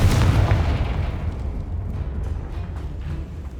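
A Confringo blasting spell detonates in Hogwarts Legacy, a heavy booming explosion right at the start that rolls off into a long rumbling decay with scattered crackling debris, loud and close.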